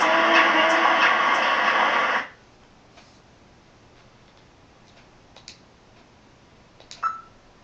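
A short burst of bright electronic tones from the Snatcher game on Sega CD plays at first as a phone number is dialed, then cuts off into near silence with a few faint ticks and a brief beep.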